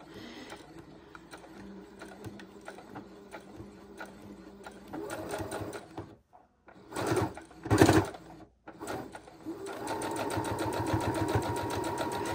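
Sewing machine stitching a scrappy fabric heart pillow, running in steady bursts with a rapid needle rhythm, pausing briefly midway before resuming with a louder continuous run near the end.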